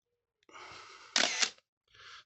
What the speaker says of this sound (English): there you go, there's a shutter release button there